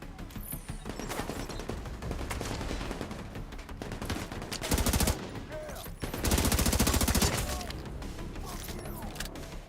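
Gunfire from a gun in The Division 2, with dense bursts of rapid shots and two louder sustained volleys, mixed with mechanical clatter and faint talk in the background.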